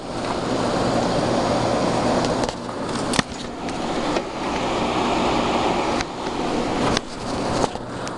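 An LG-compressor window air conditioner runs on low fan, giving a steady, fairly loud broadband whoosh with slight rattly variations and a few brief dips, with no talking.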